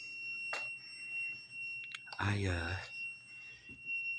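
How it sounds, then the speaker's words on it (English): A continuous high electronic alarm tone rings steadily through an abandoned rural hospital with live utilities, running the whole time behind a voice and a few scattered clicks and bumps. "I am very sorry for this annoying alarm that is going off"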